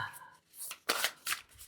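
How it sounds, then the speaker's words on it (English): A Wild Eden tarot deck is shuffled by hand in quick bursts, three crisp riffling swishes of cards separated by short pauses, close and clear. "it's just such a joy to shuffle this deck"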